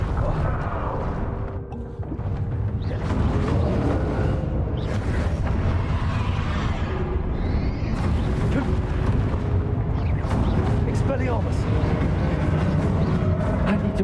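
A Bombarda spell goes off in a Harry Potter video game, heavy blasts and crackling bursts over a dense rumbling background of magical combat, loud and close, with a few sharp hits spread through.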